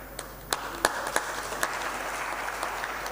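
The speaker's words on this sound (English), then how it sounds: "You're clapping for a nice point." An audience claps at a spiritual talk on Srila Prabhupada, a soft wash of applause punctuated by several sharp, louder individual claps standing out near the front.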